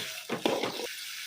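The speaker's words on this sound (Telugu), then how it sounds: "ఇప్పుడు ఫ్లేమ్ అనేది హై చేసేసుకొని ఈ టమోటోస్ మొత్తాన్ని కూడా ఆయిల్లో మగ్గనిచ్చుకోవాలి." Chopped tomatoes going into hot oil over a high flame, a short burst of sizzling with a stir lasting under a second, close and fairly quiet, no talking.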